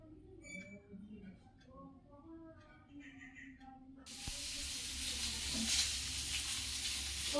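Tilapia fish frying in oil in a home kitchen: a loud steady sizzling hiss cuts in halfway through and keeps going, close by. A voice talks quietly beforehand.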